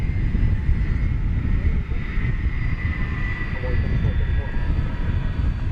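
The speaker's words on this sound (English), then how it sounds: "It's a 23-year-old aircraft." A 23-year-old airliner approaching at DFW Airport, a loud, steady engine roar with a droning whine that stays close and constant throughout.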